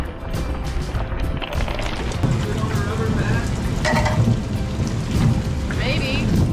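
Thunderstorm over a boat: a steady heavy hiss of rain pounding the surfaces, with low rumbling thunder rolling underneath and occasional brief splashes and knocks close by.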